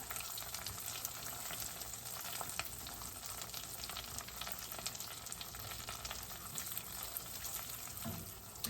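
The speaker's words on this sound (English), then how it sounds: "I'm going to let the butter melt. It's going to bubble, so be careful." Unsalted butter melts in a pan and gives off a faint, steady fizzing bubble that runs evenly throughout. It is quiet and close, with no talking.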